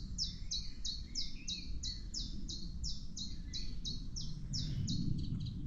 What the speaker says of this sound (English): you see this chiff-chaff, robin and a blackbird at the moment